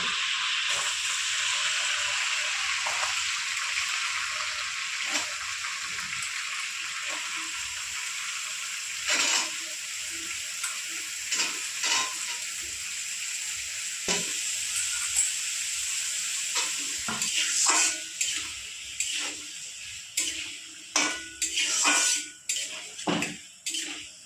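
Small diced potato pieces dropped one by one into hot oil in a pan for a potato and prawn curry, giving a steady loud sizzle with scattered clinks and scrapes that grow sharper and more frequent toward the end, with no talk.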